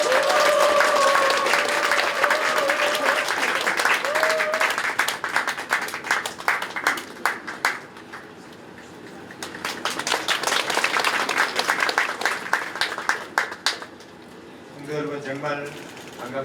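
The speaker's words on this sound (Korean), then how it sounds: "박수로 모시겠습니다" A church congregation claps to welcome an elder at a thanksgiving service opening a memorial hall. The applause is loud, dips briefly and then swells again, with a voice speaking over parts of it and a short spoken passage at the close.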